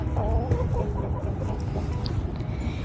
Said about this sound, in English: We have a bunch of roosters now because we took in chickens.